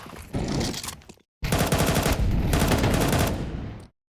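AK rifle fire in Counter-Strike comes as two loud, close bursts of rapid automatic shots, split by a short silence.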